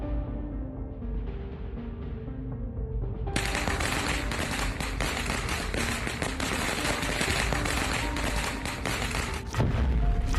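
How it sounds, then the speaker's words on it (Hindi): Cartoon firecrackers bursting in a rapid, dense crackle of loud pops that kicks in after a few seconds and runs on steadily, with a brief rising whistle before it. "रॉड के बाद बुल्ली पटाखे फोड़ता है।"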